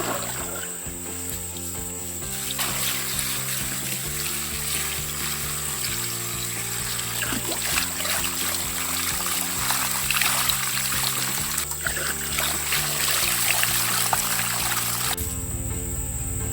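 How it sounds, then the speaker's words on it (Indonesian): Cold water pours over boiled kepayang seeds, a steady splashing trickle that continues for the whole stretch with a low background hum, close by and with no talking. "langsung saja kita siram dengan air dingin ya"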